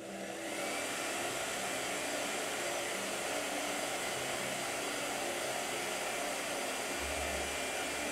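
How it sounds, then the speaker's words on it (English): A hair dryer switches on and blows steadily with a loud, even rushing whoosh that continues unbroken for several seconds. "Blow dryer."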